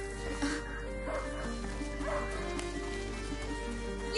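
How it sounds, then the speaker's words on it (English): A hunting dog in the video game A Plague Tale: Innocence gives a few short yips and whimpering barks, spaced out and fairly faint over a low steady game hum. "That dog is dusty."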